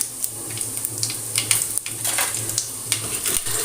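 Mustard seeds, cumin and chana dal fry in hot oil, crackling and popping in sharp bursts over a continuous sizzle, with light stirring and pan clatter close by.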